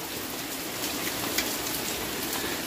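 Steady rain falling outdoors by a river, a dense, even hiss of drops hitting the ground, close and fairly loud, with no voices.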